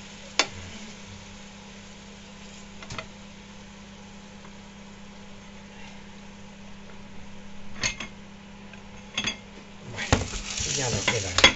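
Tuna filling for stuffed eggplant sizzles quietly in a pan, with a few sharp clinks of a utensil and louder stirring and spattering building toward the end.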